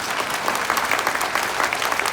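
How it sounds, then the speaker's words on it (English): Audience applause at a motivational talk on schools and teachers, a brief, dense, even burst of clapping from a crowd with no voices over it. "Clap if you agree."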